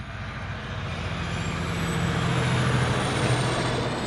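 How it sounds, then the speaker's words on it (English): Delta airliner on its takeoff roll at Honolulu airport, a broad steady roar of jet engines building gradually in loudness with a faint high whine, heard from a distance without talk. "That Delta is on the roll."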